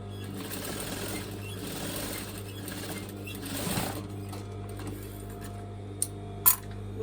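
A home sewing machine runs a steady twin stitch on a homemade top, a continuous mechanical whir held at an even pace, with a couple of sharp clicks near the end.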